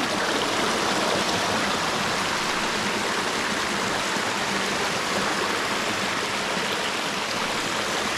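Icy mountain stream babbling over rocks in an outdoor pasture setting, a steady close-up rush of flowing water that continues unbroken throughout with no voices.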